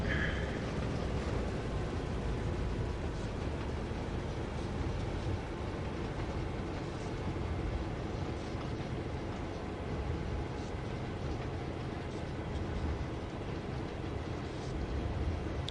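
A train driven in Train Sim World 3 on the CN Oakville Subdivision, a continuous loud rumble of wheels and engine with steady noise throughout and no pauses.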